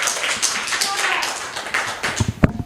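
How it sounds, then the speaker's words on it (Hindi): Schoolchildren in a government school classroom clap together in quick, uneven bursts, fairly close, while a voice talks over the clapping. "तालियां बजा दीजिए आप सब लोग।"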